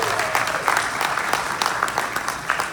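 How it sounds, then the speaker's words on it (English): An audience at a convention's closing ceremony breaks into close, continuous applause with scattered louder claps, steady for the whole stretch. "Give them a round of applause for sure."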